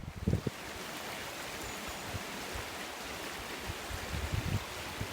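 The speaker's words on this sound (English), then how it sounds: "here you go, the River Bollin, and a little bit of paradise." The River Bollin flows beneath a footbridge in the Bollin Valley near Mobberley, Cheshire, a steady broadband rush of water heard alone, with a few faint footsteps or knocks near the start.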